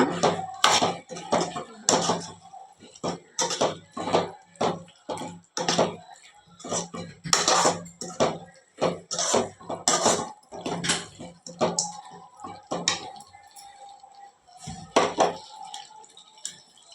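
Dried fish curry is stirred in a pot, a spoon clinking and scraping against the metal in irregular bursts, some sharp and close, others softer, with quiet pauses between.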